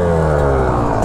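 Yamaha YZ125X two-stroke dirt bike fitted with a DEP pipe and Apex Racing head, engine holding a loud, steady buzzing idle-to-rev tone up close for about a second.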